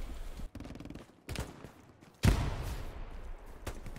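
Gunfire in the WWII shooter Hell Let Loose arrives in sharp bursts, one loud close volley followed by more distant shots and thumps, with gaps of near quiet between them.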